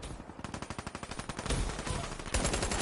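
Rapid automatic gunfire in the video game Call of Duty Black Ops 3, a fast, even stream of shots for over a second, followed by denser overlapping bursts and a final sharp blast, close and loud.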